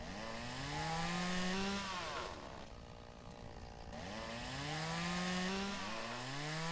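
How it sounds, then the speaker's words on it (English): In Lumberjack's Dynasty, a chainsaw cuts through bushes, its motor whining in rising sweeps as it bites, dropping to a lower idle in the middle before revving up again, moderately close. "Let us get our chainsaw. Let's get rid of some of these bushes."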